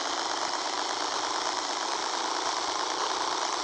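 A motorcycle engine in the video game Rules of Survival drones steadily and loudly at a constant pitch with a buzzy, rattling texture, with no change in revs throughout.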